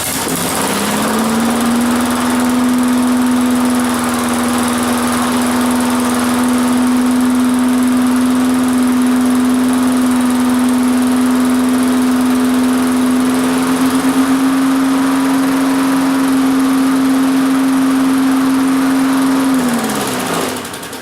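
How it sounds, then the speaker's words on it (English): A small engine on a three-wheeled lawn mower runs steadily and loudly for about twenty seconds at a constant pitch, then winds down at the end, with no voices over it. "that motor actually sounds pretty good, don't it?"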